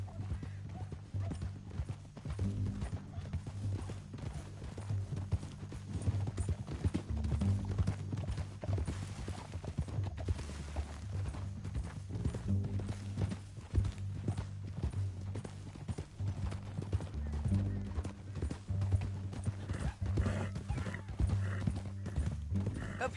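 Galloping horse hooves in the video game Red Dead Redemption 2 clatter in a rapid, continuous rhythm, loud and close, with music and occasional voices mixed in.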